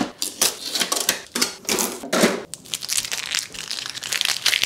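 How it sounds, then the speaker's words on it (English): Blue protective tapes being peeled off a new Epson ET-3850 printer make several close, sharp tearing rips in quick bursts, followed by softer crinkly plastic rustling. "let me remove all these blue tapes which are for the safety."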